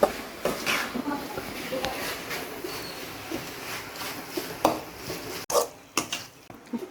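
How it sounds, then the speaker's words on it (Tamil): Tomatoes are sautéed down to a paste in a pan for homemade mutton biryani, with quiet, irregular scrapes and clinks of a spatula stirring against the metal. "நல்லா தக்காளி வந்து பேஸ்ட் ஆகுற வரைக்கும் இப்போ நம்ம வதக்கிப்போம்."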